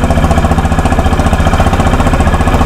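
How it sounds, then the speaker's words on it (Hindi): A Honda Highness CB350 motorcycle runs with its exhaust close by, a loud, steady, rapid thumping idle whose even pulses repeat throughout with no voices. "कुछ इस तरह से इसका एग्जॉस्ट नोट है होंडा हाइनेस का।"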